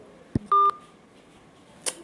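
Telephone call tones as a phone line cuts off: a sharp click, a steady electronic tone held briefly, then another short click after a quiet pause, heard alone with no talk.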